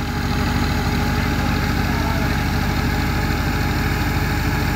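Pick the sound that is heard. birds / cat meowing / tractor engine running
tractor engine running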